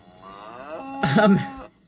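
A single drawn-out cow moo from an augmented reality animation, starting as a low harmonic drone and rising into a louder, fuller bellow near the end before cutting off, heard close and alone without any talking.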